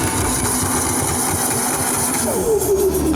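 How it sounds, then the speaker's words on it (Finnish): A turbocharged car engine is cranked and fires up, running loud and steady with a rising turbo whistle near the end. "Paukutellaan auto käyntiin."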